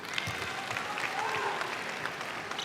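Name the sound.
crowd oohing and aahing at a netball match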